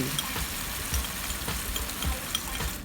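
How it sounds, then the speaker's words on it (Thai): Sauce hits sizzling garlic in hot oil in a wok for crispy pork with kale, a steady close frying hiss with faint stirring scrapes. "พอกระเทียมได้ที่แล้วเราก็ใส่ซอสของเราลงไปได้เลย"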